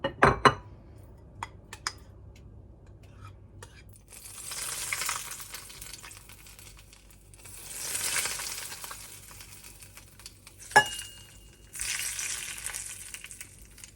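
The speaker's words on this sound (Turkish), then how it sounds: "İşte bu ses yalancı mantı sesi." Fake manti sizzles in a pan in bursts that swell and fade, with sharp utensil clinks in between; quiet and close, no talking.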